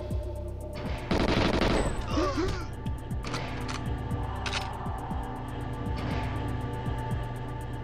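Gunfire in the video game GoldenEye, set in the Facility level, with a dense burst of rapid automatic shots early on, then sparser single cracks, moderately loud over game background sound.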